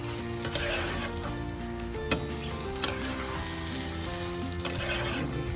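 Ghee goes over rice cooked with pointed gourd in a pan, giving a soft, quiet sizzle with a few light clinks of utensil against cookware.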